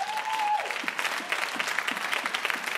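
A church congregation claps together, giving dense, continuous applause that carries on steadily, with a brief sustained tone fading out at the start.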